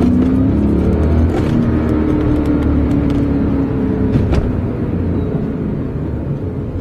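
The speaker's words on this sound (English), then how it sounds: "Just listen to this V8." A BMW E39 M5 with its 400-horsepower V8 pulls hard under acceleration, a loud, continuous engine roar with a rising note that builds and then eases slightly, with no voices over it.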